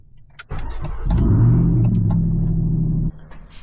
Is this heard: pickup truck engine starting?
yes